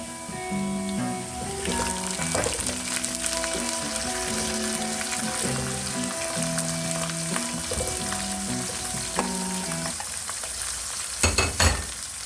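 Onions fry in a pan for vegetarian Jamaican rice and peas, giving a steady, close sizzle with bright crackling and occasional stirring scrapes, with no talking.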